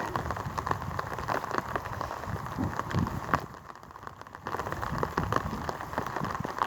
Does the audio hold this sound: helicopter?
no